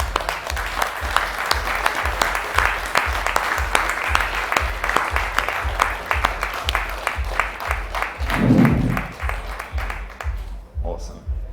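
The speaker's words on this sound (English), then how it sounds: "Give yourselves a round of applause." An audience at a spiritual talk on starseeds applauds with dense, steady clapping that carries on for about ten seconds before thinning out, and a voice is briefly heard near the end.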